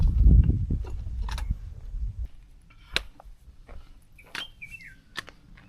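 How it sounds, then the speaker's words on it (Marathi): Along a cliff-edge trail above the Kundalika valley on the Savlya Ghat trek, birds give sparse, faint, thin chirps and a short whistled phrase after a dull opening thump, with quiet air between calls. "छान असा पक्ष्यांचा सुमधुर आवाज येतोय"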